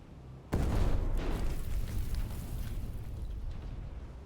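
A torpedo strikes a ship in a naval combat game with a sudden heavy boom. A long rumbling roar follows and slowly fades, loud and broad, with no voices.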